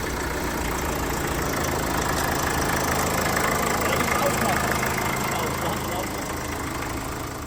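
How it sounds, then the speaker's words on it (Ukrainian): A Volkswagen Touran engine idles steadily nearby after a cold start, a continuous even rumble with a faint rattle, running throughout without pause. "Гарненько завівся моторчик."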